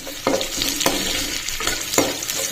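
Finely chopped garlic frying in a pan for a soy-sauce meal-maker Manchurian, a steady close sizzle broken by several sharp scraping stirs of a spatula, with no voices.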